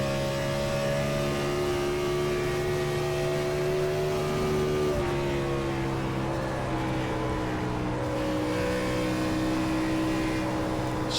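A Gen 4 2003 Ford Taurus race car in the iRacing simulator holds a loud, steady engine drone at close range, with the pitch briefly dipping and shifting as the car moves through the lap.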